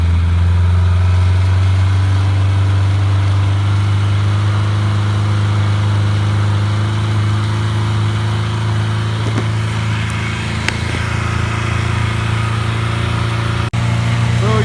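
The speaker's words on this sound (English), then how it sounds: "I'm gonna sit and let it run for a few minutes, and you're gonna hear it start" A motorcycle engine idles at a steady low rumble, running continuously and loudly with no change in pace.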